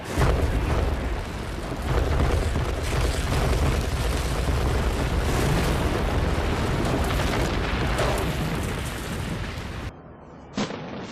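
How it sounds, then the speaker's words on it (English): A deep, sustained roar and rumble as a World Trade Center tower collapses on 9/11, thick with crackling debris, fading into a brief quieter stretch at the end. "Then there's secondary explosions and then subsequent collapses."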